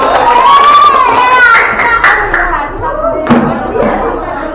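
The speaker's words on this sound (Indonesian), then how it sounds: "berikan tepuk tangan buat temannya dulu" Students in a classroom clap their hands for a classmate called to the front, a busy burst of applause mixed with children's chatter and shouts that stays loud for several seconds.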